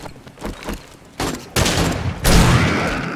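Gunfire in the zombie survival game 7 Days to Die at night, with a few sparse shots at first and then loud, rapid bursts that build into sustained automatic fire.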